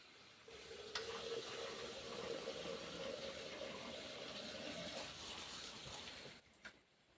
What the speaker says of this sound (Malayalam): ഇപ്പം ഞാൻ ചാണകം കലക്കാൻ വേണ്ടിയിട്ട് കുറച്ച് വെള്ളം എടുക്കട്ടെ